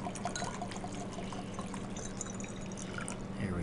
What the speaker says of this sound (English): I'm going to pour some water into a second beaker.